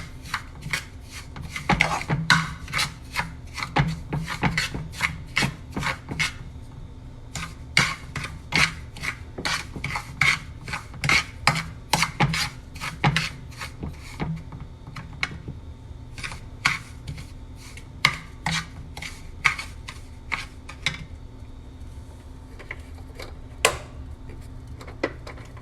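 Semolina being stirred in a pan, a long run of dry, rhythmic rasping scrapes repeating quickly and evenly at close range, with no sizzle and no voices.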